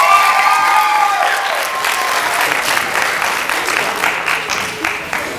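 Audience at an elementary school district literacy competition applauding third grade writing winners, a sustained burst of many hands clapping with a few faint cheers, fairly loud and thinning into scattered individual claps near the end.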